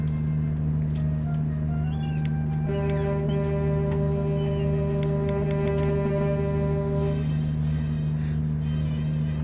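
A cat meows in a long, drawn-out tonal cry over a steady engine-like hum, the call rising clearly for a few seconds in the middle.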